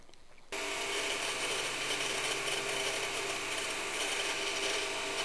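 A belt sander grinds steadily along a kit knife blade, taking off scale. It starts abruptly after a quiet moment and keeps up a loud, even, harsh hiss with no talk.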